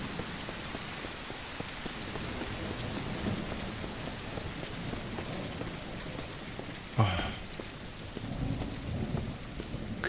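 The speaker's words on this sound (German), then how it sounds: "der Regen lässt nach." Steady rain pouring in Mist Survival with a rolling thunder crack partway through, the downpour constant and full, a brief exclamation from a voice over it.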